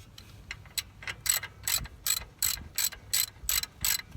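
Ratchet with a 5/16 socket running in a brake caliper bolt on a 1996 Isuzu Rodeo, giving about ten evenly spaced, loud, close clicking bursts with no talk.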